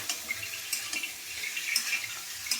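Hot water from boiled potatoes is poured away into a sink, a steady splashing rush with small spattering peaks, heard alone and fairly close.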